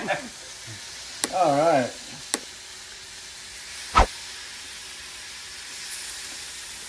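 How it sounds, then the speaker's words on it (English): Meat for birria sears in a hot pan with a soft, steady sizzle. A short bit of speech and a couple of sharp clicks or clatters break in near the start. "Now what we're trying to do is just get a sear on them to lock in all the juices"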